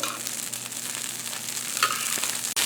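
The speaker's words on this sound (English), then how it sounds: "What we're trying to do is smudge the batter so it comes in extra crispy." Fenugreek methi dosa batter sizzles in oil on a hot pan, a dense, even frying hiss held close and constant, ending with a brief sharp knock.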